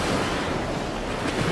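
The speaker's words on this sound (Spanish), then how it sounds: "Viendo la violencia del viento," Violent wind and crashing waves on the sea roar continuously in a dense, loud wash of surf and gusting air, with no voices present.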